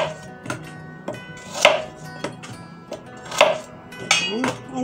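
A knife chops through a length of peeled sugarcane, cutting it in half. Firm, close chopping strikes land at an uneven pace, about seven in all, on a quiet background with no talking.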